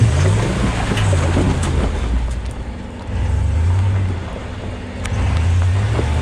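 A 2019 Ram Rebel truck climbs a slippery muddy hill off-road, its engine revving in low surging waves as the tires churn through mud, loud and close, with no talk.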